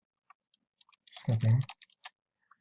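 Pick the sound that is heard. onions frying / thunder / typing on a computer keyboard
typing on a computer keyboard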